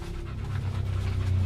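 A dog panting close by, quick rhythmic breaths repeating steadily and evenly throughout, fairly loud against a quiet background.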